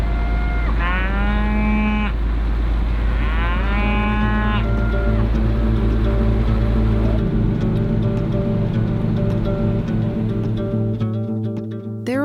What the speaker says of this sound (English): There's cows, guys. Big animal. A bigger one. He's the one making the noise.